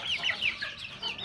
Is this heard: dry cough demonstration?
no